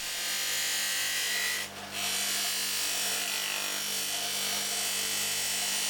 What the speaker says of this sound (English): it's time to polish it on the buffing machine